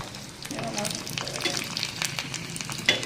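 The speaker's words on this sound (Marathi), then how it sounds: "तेल तापलं आपण थोडेसे जिरे टाकू याच्यामध्ये. हे बघा असं थोडेसे जिरे घालायचे आणि हा लसूण तुकडे करून घेतलेला लसूण आहे आपण हा टाकायचा." Cumin seeds and chopped garlic sizzling in hot oil in a pan, a bright crackling fry with rapid popping and a spatula stir, close and steady, ending in a sharp clink.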